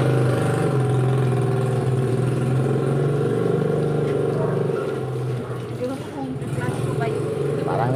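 An LG spin dryer motor runs with a steady, noisy hum and drone, continuous throughout at moderate loudness, with faint voices around it.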